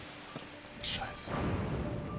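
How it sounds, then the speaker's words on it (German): Steady rain hisses through a Zelda: Tears of the Kingdom thunderstorm, with a low rumble beneath it and a couple of brief bright game chimes over the weather. "Ich dachte, hier würde es nicht regnen."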